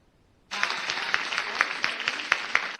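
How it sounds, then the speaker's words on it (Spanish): Applause on a video call at a school-counselling training session, arriving suddenly after a quiet moment and running as a steady mid-level patter of many hands with a few sharper claps standing out. "llega con delay, pero un aplausazo"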